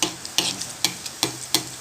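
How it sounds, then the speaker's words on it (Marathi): Gulab jamun fry in ghee and are stirred repeatedly, making a low bubbling sizzle broken by about five evenly spaced scraping swishes of the spoon close by. "हलवून हलवून तूप घालवायचं, नाही फुगत नाही ते चांगलं।"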